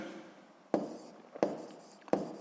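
Pen strokes on paper during a sixth-grade maths exercise, three separate short scratchy bursts spaced evenly apart, close and fairly quiet, with no talking.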